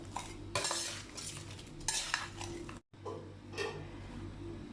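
Small freshwater shrimp stir-fried with salt in a pan, scraping and stirring strokes in bursts over a steady sizzle, with a short silent break midway.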